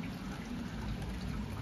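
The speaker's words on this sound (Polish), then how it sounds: "Pada deszcz." Steady rain falling outdoors in Rotterdam, a soft, even broadband hiss of drops and trickling water holding at a constant level throughout, with no voices.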